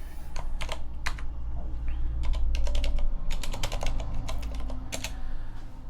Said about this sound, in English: So you need to type some more.